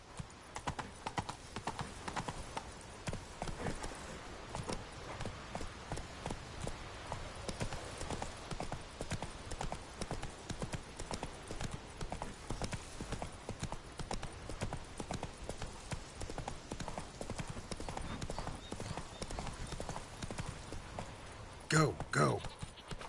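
Roach the horse gallops hard in The Witcher 3, a fast steady drumming of hooves that runs loud and close the whole way through, with a brief louder burst near the end.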